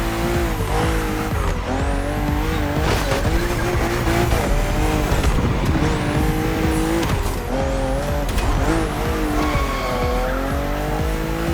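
Race cars roar around a narrow, twisting track with sharp bends in The Crew Motorfest, engines whining up and down through gear changes while tires squeal repeatedly, a continuous loud mix of several cars close by.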